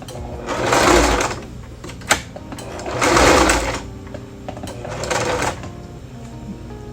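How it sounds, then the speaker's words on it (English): Zigzag stitching runs on a sewing machine joining a satin lining to a stretched knit beanie, three separate loud close bursts with a sharp click between the first two. "Time for the zigzag stitch."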